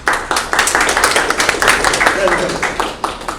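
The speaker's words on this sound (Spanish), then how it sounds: "por favor unos aplausos para él" A seminar audience claps for an engineer being introduced, a moderately loud burst of fairly sparse individual claps that thins out toward the end.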